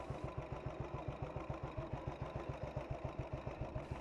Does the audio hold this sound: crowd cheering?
no